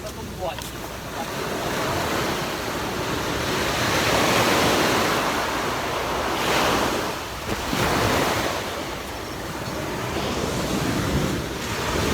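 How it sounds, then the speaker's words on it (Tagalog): Afternoon ocean surf at a cove in Sual, Pangasinan rolls and washes onto the shore, a steady roar swelling and fading, with wind buffeting the microphone. "Hapon na guys, kaya maalon na."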